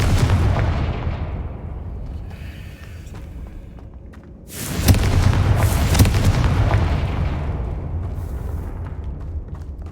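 Confringo fire spell from the video game Hogwarts Legacy bursting in a loud, booming explosion with a rumbling tail, rising out of steady game ambience midway and staying heavy.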